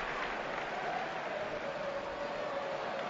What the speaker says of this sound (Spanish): aplaudiments de Mestalla